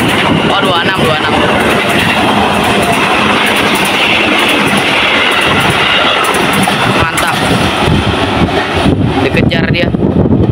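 Train 2706A passes the railway switch at Depok, a loud, steady roar of wheels and carriages rushing close by with rhythmic clatter and wind buffeting the microphone throughout.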